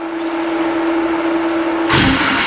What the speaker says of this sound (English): You gotta work the gas pedal there